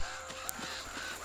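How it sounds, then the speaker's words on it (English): Birds caw in the video game Uncharted: Drake's Fortune, heard down a dark corridor as a few harsh, scattered calls over a hissing ambient bed, with no voices. "Birds!"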